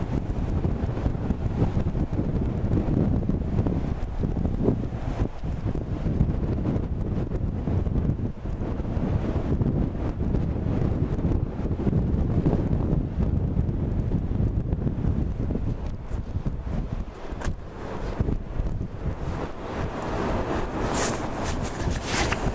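Strong wind roars continuously into the microphone in downtown Toronto at -20°C, a heavy, unbroken rumble with gusty surges and no voices.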